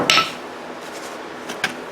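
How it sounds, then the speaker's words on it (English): A hammer strikes a stuck bolt with one sharp, ringing metallic hit, followed by two fainter taps after a pause. "Gotta get a hammer."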